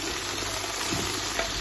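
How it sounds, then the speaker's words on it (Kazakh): Bell pepper frying with onion in a pan over medium heat for lecho, a steady dense sizzle with soft stirring, close and continuous with no talk. "Шамалы сарғайған соң оған болгар бұрышымызды қосып, екеуін әбден қуыратын боламыз."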